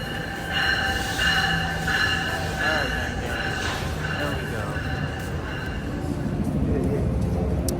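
Inside a train car riding from New Jersey into New York City: a steady rolling rumble with metallic wheel squeals and rail noise throughout, a voice talking over it.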